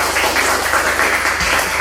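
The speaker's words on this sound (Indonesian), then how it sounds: "Tepuk tangan untuk kita semua." A school class claps together in a classroom, a fairly loud, dense patter of many hands that carries on evenly for a couple of seconds.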